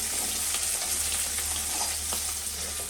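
Whole fresh fish frying in a hot pan gives off a steady, close, dense sizzle with fine crackling that holds for the full three seconds, with no voices.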